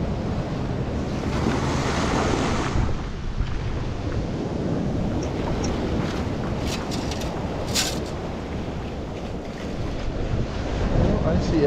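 Surf rolls and washes continuously nearby on a California beach, mixed with gusty wind buffeting the microphone and a few faint metallic clicks of a metal detector scoop.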